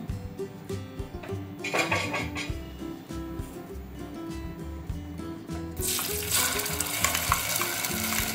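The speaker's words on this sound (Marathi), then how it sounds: "भोपळा छान तुपात परतून घेतलाय।" Pumpkin puree sautéing in ghee, a close steady sizzle with spoon scraping and stirring, growing louder and hissier toward the end, with no voices.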